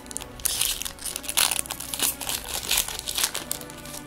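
A Magic: The Gathering Dragons of Tarkir booster pack wrapper is crinkled and torn open up close, loud crackly plastic rustling in rapid bursts throughout.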